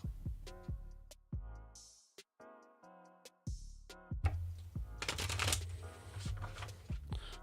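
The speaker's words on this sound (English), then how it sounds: "We only ever draw 2 cards from these, so no need to shuffle a whole bunch, but I'm gonna." A tarot card deck being shuffled by hand, with crisp riffling bursts and soft taps. A sustained tone sits underneath, then a louder stretch of denser shuffling noise toward the end.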